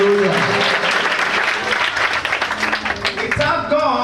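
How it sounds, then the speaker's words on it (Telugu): A church congregation at a Holy Communion service in Balusupadu, India claps loudly together in a dense, sustained burst of applause lasting several seconds, with some voices rising beneath it and a fading tail at the end. "నమ్మినట్లయితే గట్టిగా చప్పట్లు కొట్టండి."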